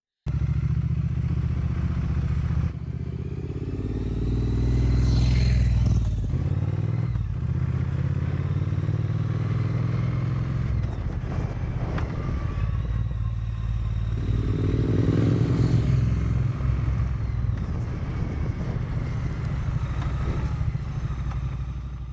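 A Triumph Bonneville T100 motorcycle rides along country roads, its engine droning loud and close throughout with shifts in pitch as it accelerates and eases off, plus wind rush and no talk.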